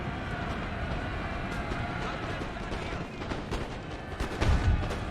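Musket volleys and cannon fire rumble through a Napoleonic-era battle in the strategy game Napoleon: Total War, a dense continuous roar of distant gunfire with a few louder bursts near the end.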